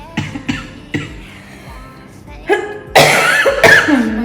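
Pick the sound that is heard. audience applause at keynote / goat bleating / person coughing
person coughing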